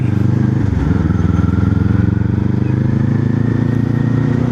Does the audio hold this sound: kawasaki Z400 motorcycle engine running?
yes